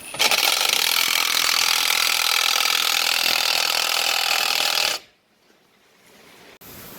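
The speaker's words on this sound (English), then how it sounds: "go ahead and throw your impact gun on, pull the trigger, and the ball joint should come right out." An impact gun drives a ball joint press to remove a ball joint on a 2004 Ford F-350 Super Duty: a loud, steady rattling burst for about five seconds, which stops abruptly and leaves quiet shop noise.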